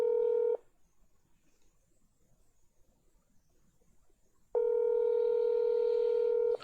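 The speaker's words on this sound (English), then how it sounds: "Let's call Terry and hear" Telephone tones from a call being placed during a live morning show, two steady electronic beeps separated by a few seconds of near silence, clear and close.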